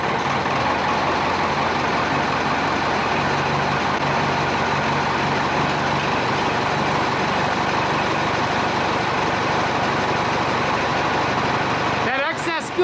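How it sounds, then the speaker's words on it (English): An old hay tractor's engine runs steadily, a loud, continuous diesel drone heard close up from start to finish, with a brief clattering change at the very end. "And I swear if the temperature drops below 70, this tractor starts hard."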